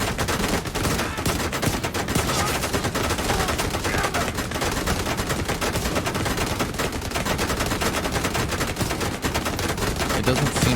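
Sustained, dense automatic gunfire from the video game The Division 2 hammers on without a break, loud and close, with rapid overlapping shots throughout.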